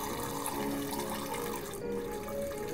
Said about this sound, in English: It's water. I'm just spraying water in the toilet.